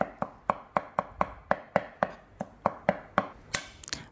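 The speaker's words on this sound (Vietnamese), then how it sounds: "Củ hành tím thì mình đập cho nó dập, rồi sau đó mình cũng băm cho nó thật là nhuyễn ra luôn" A knife chops steadily on a cutting board while shallots are crushed and minced for a vegetarian braised eggplant dish, about fifteen sharp, evenly spaced taps, close and clear with no talk.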